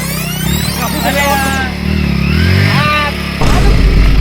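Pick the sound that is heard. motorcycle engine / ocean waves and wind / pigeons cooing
motorcycle engine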